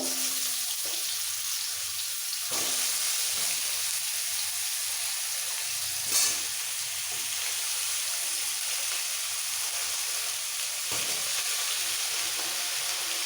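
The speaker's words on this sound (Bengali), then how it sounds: "নুন দিয়ে আলুটাকে একটু ভাজবো আলুটা হালকা লাল হয়ে ভাজা হয়ে গেলে" Potato pieces fry with salt in a pan, a steady, even sizzle that runs throughout. Occasional soft scrapes and taps of stirring can be heard.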